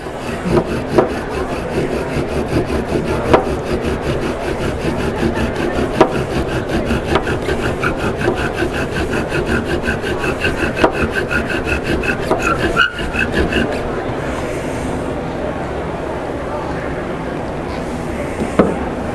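A wooden spindle spun hard against a wooden fireboard to make a friction fire, a loud, fast, steady rasping and rubbing close up that keeps a sawing rhythm, then eases into a quieter, smoother grind near the end.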